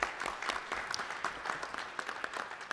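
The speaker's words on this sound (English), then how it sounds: "Ladies and gentlemen, another round of applause for Dr." Light audience applause at an Illinois Association of Hispanic State Employees legislative forum, honoring Dr. Gonzalez: a moderate, steady patter of separate handclaps lasting the whole stretch, with no talking over it.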